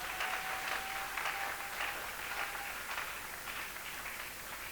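A church congregation applauds and cheers in a sustained, faint wash of clapping that lasts throughout and slowly tapers off, with no clear speech.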